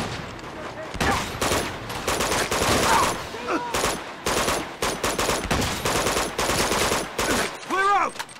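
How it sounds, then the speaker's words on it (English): Gunfire in the action game Uncharted 2: Among Thieves, a sequence of loud, sharp shots spaced by short gaps with echoing tails, plus a few metallic ringing sounds near the end. "Wait, I recognize that shotgun."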